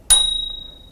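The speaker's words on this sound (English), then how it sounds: "There's a bell." The bell on an electric scooter gives a single bright ding that is struck once and rings on with a clear, lingering metallic tone, close and alone.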